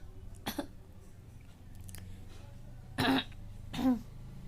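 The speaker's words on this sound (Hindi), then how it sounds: "खांसी आ रही है" Two short, harsh coughs or throat-clearing bursts a second apart, close by, over a low steady hum with faint background noise.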